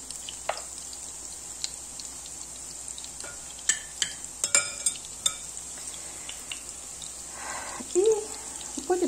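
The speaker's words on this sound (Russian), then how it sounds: "Вот это все сейчас будет жариться." Quiet pan frying of potato pancakes with a steady soft hiss, broken by a few sharper crackles and the clink of a utensil, with a brief louder sputter near the end.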